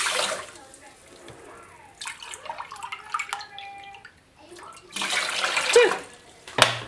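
Water splashes and trickles into a pot of basmati rice in a home kitchen, a steady pour with bursts of louder gushing, accompanied by faint handling clatter.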